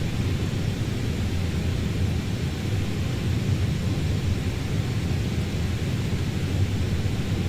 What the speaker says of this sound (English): Climbing towards our cruising altitude now